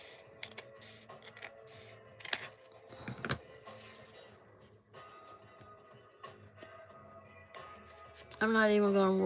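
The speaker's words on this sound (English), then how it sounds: "I just take my handy dandy scissors and cut that off." Handheld scissors make a few sharp, close snips as small bits are trimmed off the edge of a piece being shaped into a tag, with quiet handling between cuts and a voice at the end.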